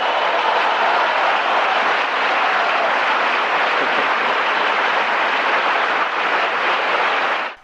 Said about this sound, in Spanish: Lo vamos a cortar aquí, pero los aplausos duran mucho